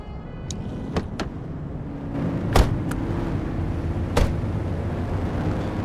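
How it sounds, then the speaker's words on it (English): Police squad car in a patrol video game: a car door opening and slamming with sharp clicks, then the engine starting into a steady low idle hum that continues to the end. "Let's go and grab our squad car."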